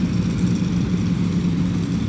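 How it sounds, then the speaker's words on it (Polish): A motorcycle engine idles steadily and loudly, a low continuous rumble with no talking over it. "Pilot wyprowadza motocykl."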